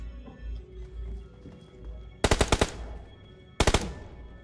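Gunfire in the video game PUBG: two quick bursts of rapid shots, each a tight cluster of four or five sharp cracks, heard up close over a low ambient rumble.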